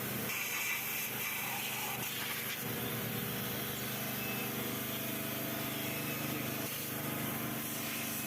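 Pressurized spray hissing steadily through the oil passage of a motorcycle engine during cleaning, a continuous broadband rush lasting throughout, close and fairly loud with faint mechanical rattles underneath.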